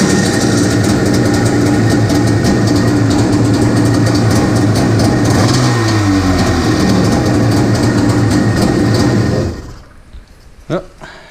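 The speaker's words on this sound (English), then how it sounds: "I'm going to give it a little test hit and see if she fires up" A jet ski engine fitted with a Superjet primer runs loud with a steady, rough, rumbling idle for about nine seconds, then cuts out, leaving a few quieter knocks.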